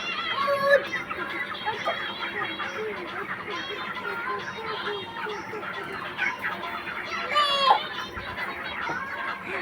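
Chickens on a family's own farm cluck and cackle in bursts at close range, mixed with children's excited voices and chatter throughout.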